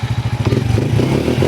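Honda Wave 100 motorcycle engine cranking and catching, a rapid rhythmic chugging pulse that steadies into a running idle, close and loud.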